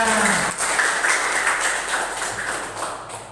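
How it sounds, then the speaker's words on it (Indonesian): A class of students claps together during a morning classroom session, a dense burst of applause that stays steady for a few seconds before tapering off. "Tepuk tangan untuk kalian semuanya."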